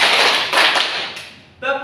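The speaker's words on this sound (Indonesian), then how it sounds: "Agak cepat kalau tepuk empat." Group hand clapping in a classroom positive-culture routine, a quick run of broadband claps with a fresh burst near the end, close and fairly loud.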